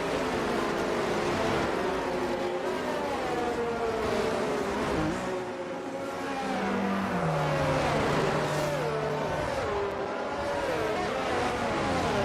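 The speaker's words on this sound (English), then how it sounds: "And we're about to get back racing into lap 5 with Caban leading the pack there" Race cars in a video game's Japanese Grand Prix restart after a safety car period, engines droning and rising in pitch continuously with overlapping whines of several cars, steady and loud throughout with no talking.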